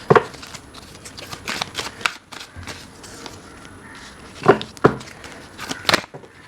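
Tarot cards being shuffled in quick riffling bursts, close and fairly loud, with crisp clustered flicks early on and again near the end, and quieter rustling between them; no talking.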